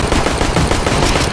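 Loud, continuous rapid-fire gunfire from a shooting video game, a dense automatic burst filling the whole moment with no talk over it.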